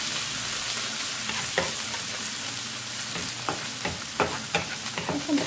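Canned button mushrooms sauté in a hot pan with onion for a côte de boeuf mushroom sauce, a steady close sizzle with scattered stirring scrapes and clicks across the clip.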